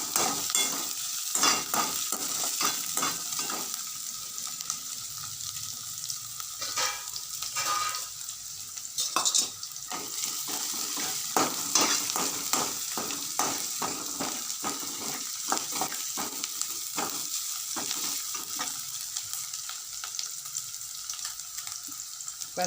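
Onions sauté with ginger and garlic in a pan, a constant sizzle broken by frequent scraping stirs of a spoon against the metal, close and moderately loud with no voices.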